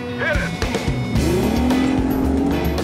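Evinrude E-TEC and Yamaha outboard motors of equal horsepower strain against each other in a boat tug-of-war, a loud continuous engine roar with rising, wavering pitch as the throttles open.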